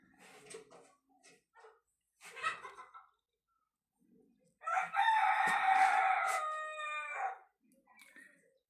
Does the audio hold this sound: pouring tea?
no